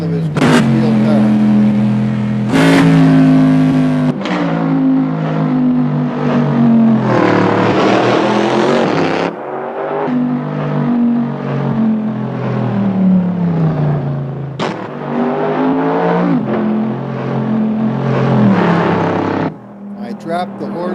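Mercedes AMG with a new raspier sound mod, turbos removed, revving over and over. A loud, close engine note climbs and falls in repeated bursts while a voice talks over it.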